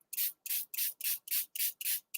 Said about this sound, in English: I'm going to spray this with water